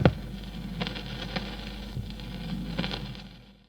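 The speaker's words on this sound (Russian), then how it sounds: "виниловых шумов," Vinyl record noise for a horror soundscape: a steady low hum sits under soft surface hiss, broken by irregular clicks and pops, with a stronger crack at the start and a gradual fade at the end.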